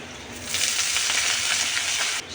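Red amaranth greens drop into a pan of hot fried onion and chilli and burst into a loud, steady sizzle after a brief quiet start, heard close up with no talking.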